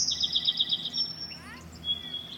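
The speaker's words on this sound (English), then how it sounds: "Can you guys hear the birds?" Birds sing in a backyard garden with a few clear, high chirps and trills against a quiet outdoor background.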